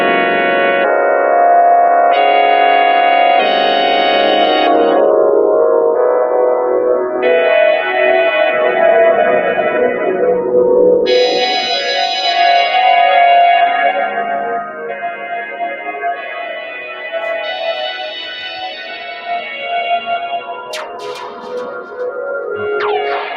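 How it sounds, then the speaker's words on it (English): Modbap Per4mer modular synth voice drenched in reverb and delay, sustained tonal chords shifting every few seconds into an ambient wash, with echoing tails and a few bright blips near the end. "Now that's just the reverb and the delay line"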